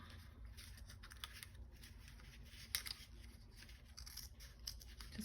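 Scissors trimming a strip of paper for a beach-themed scrapbook layout, giving a run of soft, quiet snips and rustles close by, with no talking.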